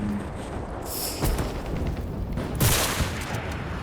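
Gunfire and explosive bursts from the World War II shooter game Enlisted, with two loud broadband bursts and scattered distant shots over a steady battlefield rumble; no talking.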